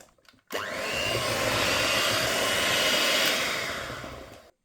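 An electric mixer whirs steadily for about four seconds, loud and close, while fine semolina is mixed into date cake batter, starting abruptly and cutting off at the end.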